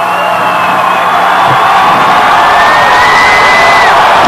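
A large football stadium crowd roaring and cheering at the kickoff of a 1992 game, fans on both sides on their feet, a loud, continuous wash of voices with whistles and shouts rising through it.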